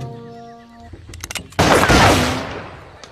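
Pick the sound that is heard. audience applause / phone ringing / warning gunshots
warning gunshots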